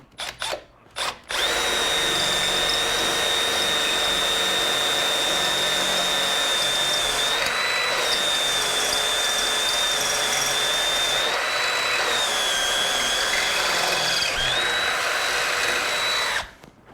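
A power drill bores holes through a metal hitch for a zero-turn mower, the bit dipped in used oil. A couple of short bursts give way to a loud, sustained whining drone with slight pitch dips.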